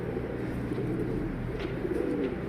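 Soft pigeon coos murmur repeatedly in a low, steady background, faint and continuous.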